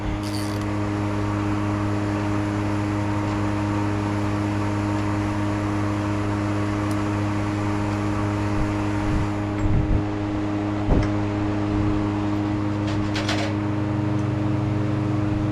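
A steady mechanical hum and drone comes from backing a thread-cutting tool out of injector cups clamped in a shop vise, with a few faint clicks and creaks partway through.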